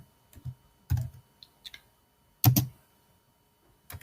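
Keystrokes on a computer keyboard as a WMIC command is typed, coming in short irregular bursts of close clicks separated by pauses, with no one talking.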